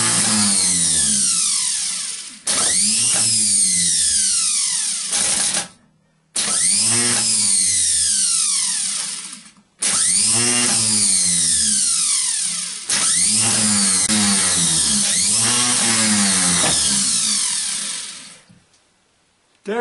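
A rebuilt Chevy starter motor spins on a bench test in five bursts, each whining up to a loud high-pitched rev then winding down as power cuts, heard close with no talk.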